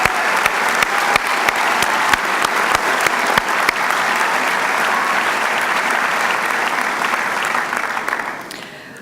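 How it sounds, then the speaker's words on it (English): Sustained applause from a large audience at a medical school commencement ceremony, steady and full for about eight seconds before tapering off at the end. "How about a round of applause to show your appreciation for everyone who supported you?"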